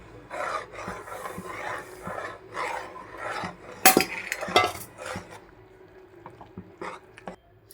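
Flour batter being stirred into melted jaggery for bellam appalu, heard as a run of close scraping and rasping strokes against the pot, with a few sharper clinks partway through.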